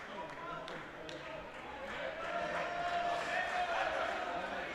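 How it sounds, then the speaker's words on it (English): Indoor crowd at a veterans judo world championship, a steady murmur of voices and cheering that swells slightly, with occasional thuds and squeaks from the mat beneath. "Crowd making quite a bit of noise for these guys."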